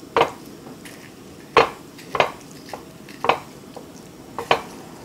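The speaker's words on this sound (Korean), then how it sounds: "고기를 넣으시고 이렇게 달달달달 고기가 소고기가 익을 때까지 이렇게 달달 볶으시는 거예요" Beef being stir-fried in a pot for Korean doenjang stew, with a utensil knocking and scraping against the metal in repeated sharp clanks at an uneven rhythm, close and without talk.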